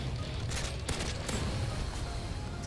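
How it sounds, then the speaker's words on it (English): M14 rifle gunfire in a Call of Duty game crackles in a quick cluster of sharp shots, several distinct cracks over a steady rumble of battle noise. "Ooh, M14, this is gonna be a good gun."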